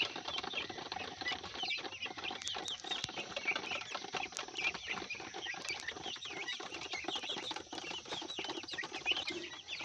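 Farmyard chickens, including white local desi hens and broiler chicks about twenty days old, cluck and scratch continuously throughout, with many small overlapping calls and rustles close by, no voices.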